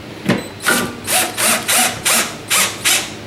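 A power drill with a lowered torque setting drives a screw into plastic beneath a kitchen counter, giving seven short, loud ratcheting bursts in quick, even rhythm, close up.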